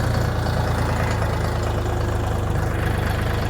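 A DTZ 5244HPX minitractor in low first gear, rear-wheel drive only, churns steadily over rough terrain while its wheels slip; a loud, continuous low diesel drone with a rapid knocking pulse runs throughout, with no talk.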